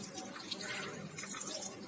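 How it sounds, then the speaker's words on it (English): Water poured into a cooking pot of vegetables for a simple vegetable curry, a soft continuous splashing and gurgling stream, quiet and close, with no one speaking. "See, I'm adding water."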